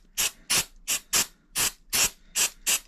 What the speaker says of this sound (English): Use some compressed air.